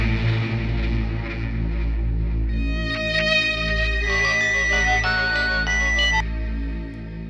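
A phone ringtone for an outgoing call plays a bright electronic melody in a domestic drama scene, rising over a low steady hum and lasting several seconds.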